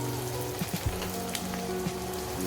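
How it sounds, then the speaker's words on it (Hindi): Chickpeas fry in a pan, giving a quiet, steady sizzle like light rain, with a few soft pops and crackles scattered through it. "हम चनों को फ्राई कर रहे हैं"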